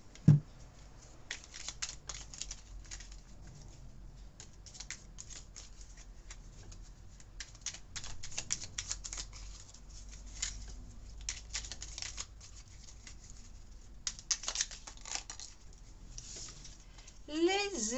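Fairy oracle cards are shuffled and drawn by hand, with soft irregular riffling, papery flicks and light taps at close range, fairly quiet throughout and a few brighter bursts near the end, with no talking heard.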